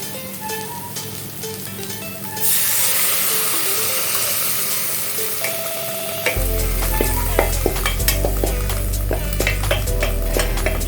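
Parboiled masoor dal goes into a frying pan, setting off a loud sizzle that swells as it lands. Repeated scraping and stirring clatter follows, close by, with no speech.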